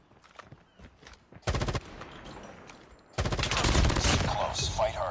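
Rapid automatic gunfire from the mobile shooter Call of Duty Mobile during an intense free-for-all wager match, with a short loud burst followed by a longer sustained volley of shots over faint background game noise.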